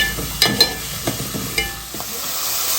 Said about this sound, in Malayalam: നല്ലോണം വഴറ്റുക.